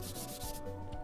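Sandpaper rubs back and forth across rough pine pallet wood in a couple of quick, close, raspy strokes.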